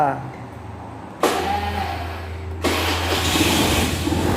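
A motor vehicle engine is started after a V-belt replacement: a quiet interval, then two abrupt steps up into a louder running drone, with a person talking over it.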